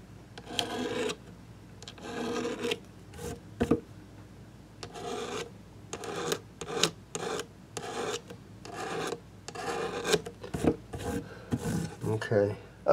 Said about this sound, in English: Just to try to scrape a little of that real quick.